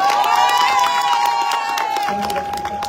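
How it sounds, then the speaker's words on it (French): An audience at a Comorian artisan fair in France applauds and cheers performers after an instrument presentation, loud crowd noise with shouts and a sustained tone, tapering slightly toward the end. "on les applaudit déjà bien fort."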